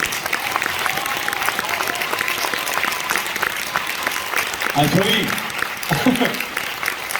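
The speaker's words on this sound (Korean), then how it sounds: "큰 박수 부탁드립니다." A New Year concert audience claps steadily throughout, a dense patter of applause, while someone speaks briefly over it toward the end.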